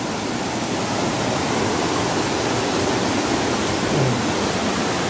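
Half a river pours out through a burst embankment from a flooded field, a loud, unbroken close-up roar of rushing water filling the whole clip.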